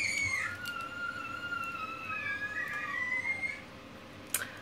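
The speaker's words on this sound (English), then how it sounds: "That's a whole lot of squealing going on." Children squeal playfully in high, sliding shrieks that rise and fall over several seconds, slightly distant against a low room hum, with a brief sharp noise near the end.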